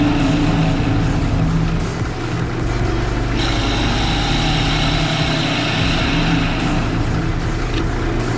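Excess Osage orange wood is cut off a hobo reel with a power tool, making a loud, steady motorized drone that runs continuously with slight shifts in pitch, close by with no talking.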